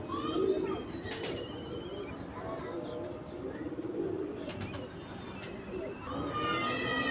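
A high flyer pigeon in Karachi gives low, soft cooing over steady background noise, with occasional sharper chirps and distant sounds around it.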